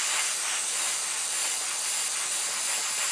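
Steady airbrush hiss spraying green paint onto a Spitfire scale model, a constant soft airy rush with no breaks, close and fairly quiet.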